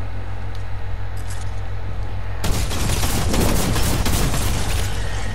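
Rapid automatic gunfire in Fortnite, a loud dense burst of shots starting abruptly after a low hum and continuing steadily to the end.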